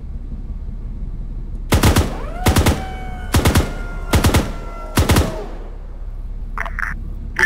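Five short, loud bursts of automatic gunfire in a video game battle near a tank, each a tight cluster of rapid shots evenly spaced about a second apart, followed by quieter faint sounds.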